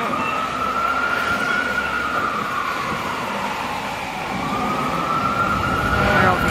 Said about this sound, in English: There's always sirens going off in the city, it feels like.